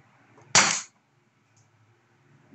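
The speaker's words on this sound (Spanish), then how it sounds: "ahora sí lo ponemos en fire y aquí hacemos los disparos" A Bersa BP9CC CO2-powered 4.5 mm BB pistol fires a single sharp, loud pop up close, followed by near silence and a faint click.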